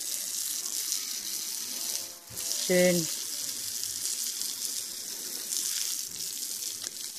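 Water sprays steadily from a hose as a water buffalo is showered outdoors in Egypt, a constant close hiss that runs the whole time, with a brief spoken word and a short animal vocalisation partway through.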